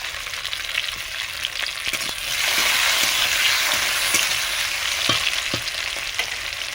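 Chopped tomato fries loudly in a pan with a steady, dense sizzle that swells midway, broken by scattered scrapes and taps from a stirring spoon.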